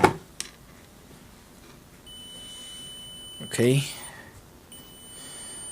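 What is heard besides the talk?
electronic beeping tone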